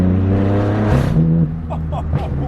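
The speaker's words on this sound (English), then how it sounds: "This V10 M5 just stopped by. He's got a nice exhaust on it." A BMW V10 M5 with an aftermarket exhaust idles with a deep, steady rumble, then blips its throttle into a brief rising rev before settling back; loud and close.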